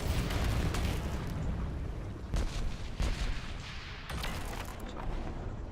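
A scuttled vehicle self-destructs in the video game Era One, giving a dense, continuous rumble of booming blasts with sharper bursts landing about every second or two, loud and close throughout.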